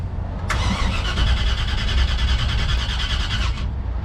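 A 1930 Ford Model A hotrod engine cranking without catching, the starter grinding steadily for about three seconds at close range over a low rumble, then cutting off.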